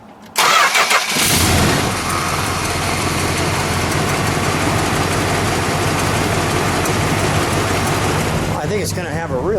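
A 1966 Dodge Monaco with a 383 engine and noisy aftermarket mufflers cranks and catches, then settles into a loud, continuous, rough idle heard up close for several seconds.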